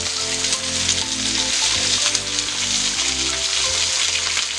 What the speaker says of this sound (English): And stir fry for about 3 to 5 minutes, only flipping or turning about every minute or so